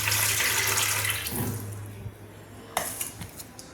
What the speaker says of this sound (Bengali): দেখুন, আবার আমি জলটা ফেলে দিচ্ছি।